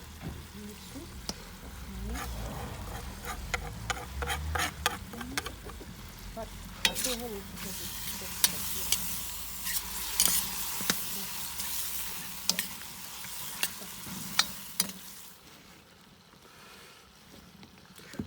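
Garlic sizzles as it is stirred into potatoes and meat frying in a pan, with a steady hiss and repeated scraping and clinking of a utensil close by; a voice speaks briefly early on.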